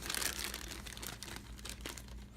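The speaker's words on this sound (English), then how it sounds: "Come in their own little plastic bag." Close, faint crinkling and rustling of a thin plastic bag holding board game miniatures (Pandemic: Reign of Cthulhu) being handled, a continuous crackly texture with no voices.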